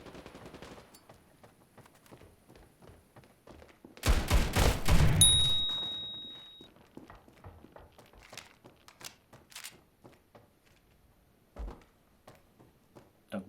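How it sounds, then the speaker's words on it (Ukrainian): Desert Eagle pistol fire in the Standoff 2 shooter game: a loud dense burst of shots around the middle, with scattered quieter taps and footsteps before and after. "Бачили, як я хедшот зробив з дігла?"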